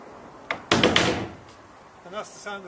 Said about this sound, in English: that's the sound of the vice grips falling off the inside